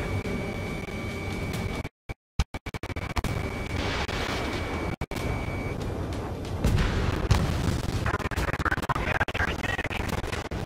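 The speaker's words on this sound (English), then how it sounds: "Their artillery fire just missed us off our starboard side." Heavy artillery explosions in the air-combat game Ace Combat 7, a loud, dense rumble of booms and blasts with abrupt cutouts and crackling noise throughout.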